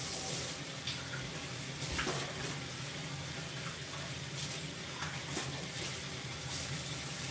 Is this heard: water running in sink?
yes